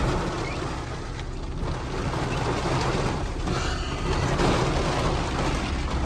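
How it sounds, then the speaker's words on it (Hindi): Heavy rain in Makkah drums steadily in a dense, constant hiss, loud and close, with a faint low rumble beneath and no speech. "काफ़ी तेज़ बारिश है"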